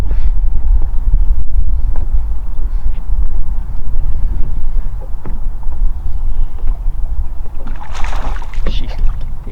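Strong wind buffeting the microphone on an open reservoir, a steady loud low roar with gusts, a few faint splashes and knocks from a boat.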